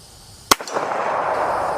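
A single sharp gunshot from a .45 handgun at target practice, loud and close, with a short echo trailing into steady outdoor background noise.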